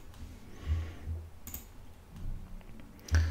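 Computer mouse clicks and keyboard presses come as sparse, light, close taps with gaps between them. A few sharper clicks stand out against a quiet room.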